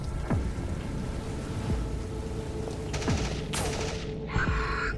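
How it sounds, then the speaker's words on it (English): Bolt pistol firing bolter shells in a Warhammer 40k Kill Team battle against Genestealers, a few sharp sci-fi shots with descending whooshes spaced over several seconds, set against a rumbling, rain-like background bed. "raises his bolt pistol and fires into the Gene Stealer. Bolter shells making quick work of the Xenos"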